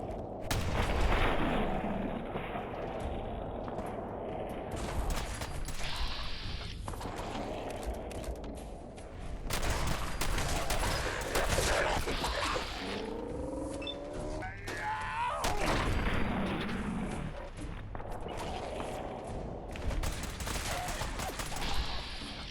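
Gunfire in Fallout 4: heavy volleys of shots and booming blasts crackle at close range in repeated bursts, with battle noise filling the gaps.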